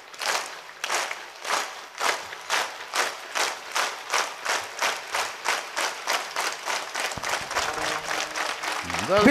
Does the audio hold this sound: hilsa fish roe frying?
no